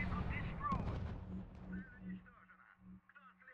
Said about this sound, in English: Our units are under fire.